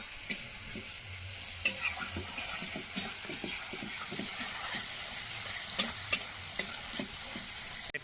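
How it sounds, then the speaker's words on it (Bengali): Onions and spices sautéed in a pan for a rohu-style bata fish curry sizzle softly in the background while a spoon stirs and scrapes with repeated irregular knocks, fairly close and moderate in loudness. "আর এদিকে পেঁয়াজ আর এদিকে মশলা ভালো করে কষিয়ে নিচ্ছে"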